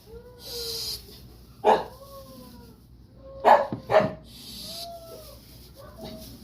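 A dog barks a few short, sharp times between soft whimpering whines, fairly close in an otherwise quiet room.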